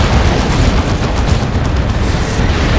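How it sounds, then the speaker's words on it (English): Heavy weapon fire from a Grey Knight Terminator's side cannon in the Dawn of War 2 strategy game, a dense, continuous barrage of booming blasts and rumbling impacts filling the whole moment at loud, steady intensity. "Grey Knight Terminator is chasing with their side cannon firing."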